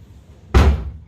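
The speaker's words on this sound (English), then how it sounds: "It bangs because there's no rubber seals on it right now." A metal door with no rubber seals bangs shut once, a single sharp, loud slam after a brief quiet moment.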